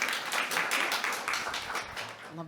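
Audience applause at an indoor public event, steady clapping from many hands throughout, fairly close, easing off near the end.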